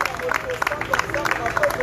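A worship congregation claps and cheers in brief acclamation, rapid overlapping handclaps with crowd voices and shouts blended in, close and lively.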